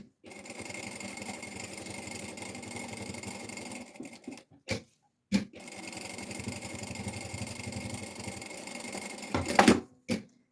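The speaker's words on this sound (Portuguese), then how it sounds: "vou virar a peça e vou passar uma costura a toda a volta para prespontar aqui, para segurar" A sewing machine stitches a seam all around a fabric piece with a close, steady, fast mechanical chatter, broken by a few short pauses and soft handling clicks near the end.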